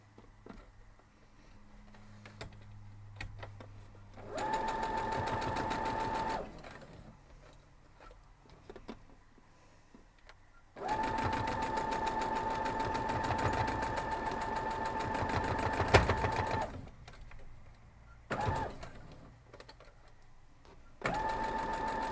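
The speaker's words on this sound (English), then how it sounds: "Let's go sew it up." A sewing machine stitches a quilt block in sustained runs, its steady rapid whirring broken by pauses and short bursts, fairly close with quiet room noise between, no talking.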